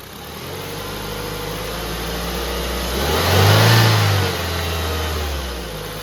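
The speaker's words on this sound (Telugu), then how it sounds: "లైట్గా ఎక్సలేటర్ మెల్లగా." Engine of a 2011 Ford Figo revving under light accelerator: a steady idle hum swells into a smooth rise in pitch around the middle, holds briefly, then settles back to idle, close and loud with no talking.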